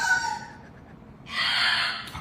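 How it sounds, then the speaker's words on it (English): A pet bird lets out a short shrill call, then a harsh, breathy, sustained screech after a brief pause, loud and close, with no talk. "I love that the bird's called Tequila"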